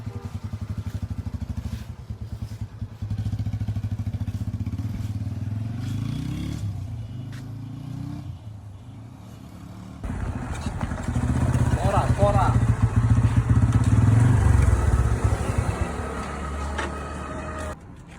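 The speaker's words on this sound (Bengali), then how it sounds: "this is my bike, this is my super bike" A motorcycle engine runs steadily nearby, its low rumble rising and growing louder partway through as it revs, with faint voices in the background.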